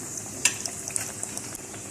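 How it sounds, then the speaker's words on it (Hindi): Chicken pieces deep frying in oil over a medium flame give a steady close sizzle with small pops and one sharper clink early on, no voice over it. "लो मीडियम फ्लेम के ऊपर ही हम इसको फ्राई करेंगे, ठीक है।"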